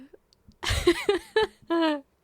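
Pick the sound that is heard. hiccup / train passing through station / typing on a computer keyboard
hiccup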